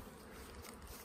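Honey bees buzz around black beehives in an apiary, a low continuous hum of many insects at close range, quiet and steady with no talking.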